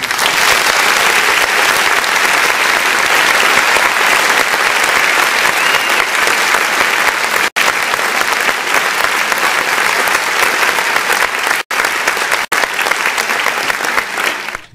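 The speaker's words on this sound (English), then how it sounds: "Y'all stand up and give a big round of applause, y'all, for Gerald Long in the building" A standing crowd gives sustained, loud applause for Gerald Long, a dense unbroken roar of clapping that carries on for about fifteen seconds with only a couple of momentary dropouts.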